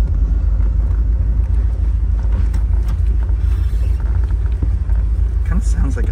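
A 1970 Chevrolet Corvette L46 V8 engine with a cam idles with a deep, continuous rumble close by, while people talk over it.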